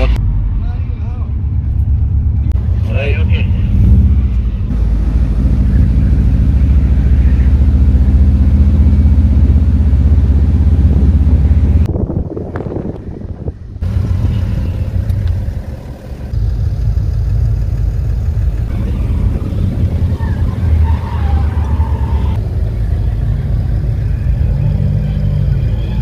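A Subaru and a BMW 330D 3 Series race car run at a drag raceway, with loud sustained engine roar and rumble and a brief drop partway through, while people talk over it.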